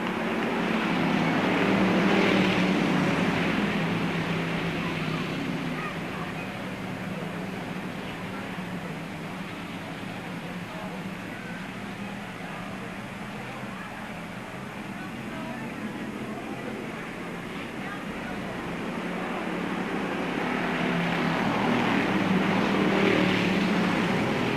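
Race cars drive at Bureau County Speedway, a dirt oval, in 1998. Their engines roar continuously as a dense, rumbling wash of sound that swells loudest at the start and end as the cars pass close by.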